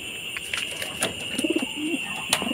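Breeder pigeons cooing in a loft, several soft low coos close by, with sharp chirps and a steady high-pitched background whine.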